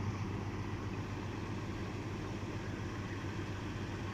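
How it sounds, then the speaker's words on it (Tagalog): A small motor hooked up to a battery runs steadily, a constant low hum and drone with no change in level throughout. "Ito yung malakas din itong makina ko na maliit."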